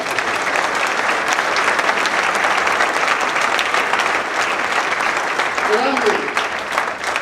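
A congregation at a church service breaks into loud, sustained applause that fills the room evenly from start to finish, with a brief voice rising faintly beneath the clapping near the end.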